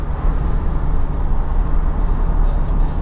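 Steady wind roar inside a Mazda MX-5 RF cruising at 45 mph with the top up, a constant broad low rumble and hiss that stays loud and unbroken throughout, no voices.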